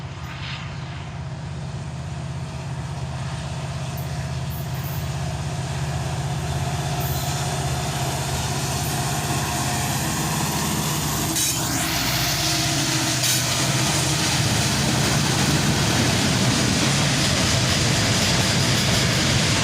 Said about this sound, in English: this train rolled in.